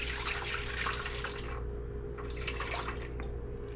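Chicken stock pours into a roasting pan in a steady trickling stream that splashes and then thins partway through before picking up again, close by, with no voices.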